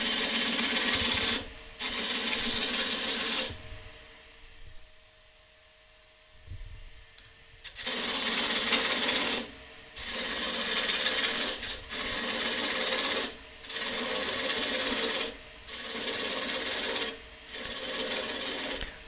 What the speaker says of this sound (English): we can very carefully take the tenon off.